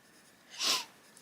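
A person with a cold gives a single short, hissy sniff, close and soft against a quiet room.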